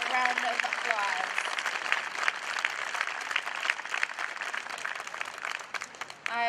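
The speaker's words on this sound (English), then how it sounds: "Let's give these students a nice warm round of applause." Warm applause for graduating 8th grade students at a class of 2021 graduation ceremony, a steady wash of clapping lasting several seconds with a voice briefly heard at the start and end.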